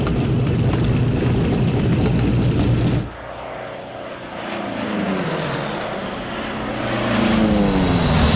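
P-47 Thunderbolt fighter plane in flight, a loud close propeller engine roar that drops off suddenly, then a fainter droning engine that swells louder again as the plane passes.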